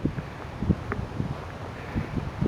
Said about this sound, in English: It's quite windy, so I'm going to try and find somewhere sheltered.